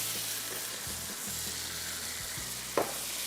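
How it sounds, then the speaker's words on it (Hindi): Ginger, black pepper and coriander fry over high heat, a steady close hiss of oil filling the pan with one brief louder clack near the end. "इसके बाद अब इसको हमने तेज़ आंच पे फ्राई करना है"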